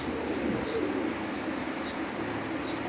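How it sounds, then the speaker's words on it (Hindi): Pigeons kept in a rooftop loft coo in low, rolling calls, a steady murmur of birds close by against a constant background hiss, with no one talking. "बहुत ही मशहूर कबूतर हैं जी"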